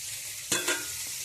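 Sliced bitter gourd and vegetables for Bengali shukto fry in hot oil, a steady close sizzle broken by two quick stirring scrapes in the pan.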